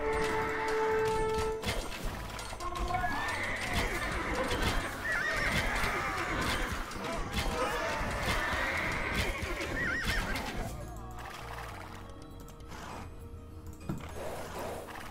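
A horse whinnies loudly in Age of Empires II, followed by clip-clopping hooves and game effects, all sounding close and lasting for several seconds before thinning out near the end.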